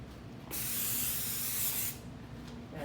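Spray baste hisses from an aerosol can onto a layered quilt in one steady burst of about one and a half seconds, close and fairly quiet, with a faint short puff near the end.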